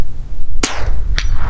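A Savage .22 rifle fires two sharp, short cracks about half a second apart, moderately loud over a quiet outdoor background, with no voices.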